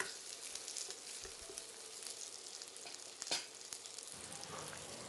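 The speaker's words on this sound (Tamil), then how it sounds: "தக்காளியோட மேல் தோல் சுருங்குற அளவுக்கு நம்ம வதக்கி எடுத்துக்கணும்" Whole tomatoes sauté in hot oil for a Tamil mutton curry, a faint steady sizzle with soft stirring scrapes and one brief clatter partway through.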